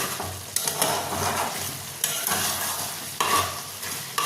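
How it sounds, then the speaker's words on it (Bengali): Chicken liver curry frying uncovered on high flame, a loud steady sizzle broken by repeated scraping stirs every second or so, a spatula working the pan up close. "এবার আমি ফ্লেমটাকে কিন্তু হাই করে দিচ্ছি, আর ঢাকনাটাও আর দেবো না। এবার এটাকে আমি ভালো করে ফ্রাই করে নেব।"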